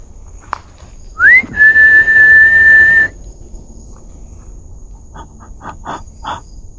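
A single clear whistled note rises and then holds steady for about two seconds, alone over quiet background in Bukit Brown Cemetery, followed by faint scattered clicks.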